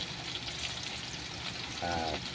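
Oil sizzles and crackles steadily as potatoes fry in a pan, close and continuous, with a short low hum near the end.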